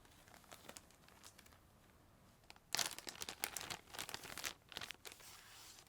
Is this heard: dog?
no